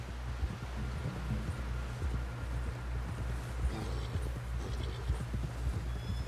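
Horse hooves clip-clop in a steady walking rhythm in the video game Red Dead Redemption 2 during a train robbery mission, close and low, with faint rustling and no voices.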